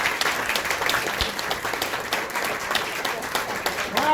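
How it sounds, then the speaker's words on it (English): Audience applause for a woman who sailed the Southern Ocean leg of the Clipper Round the World race, steady dense clapping filling the room at an even level for the whole stretch, with no talk over it. "let's give her a nice big round of applause"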